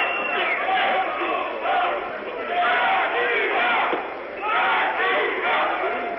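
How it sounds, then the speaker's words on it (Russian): Fans cheering in an arena at a 1998 European Championship 48 kg wrestling final, loud chanting surges from a large crowd rising and falling in waves. "Болельщиков, поддерживающих Казакова, конечно, много здесь в зале"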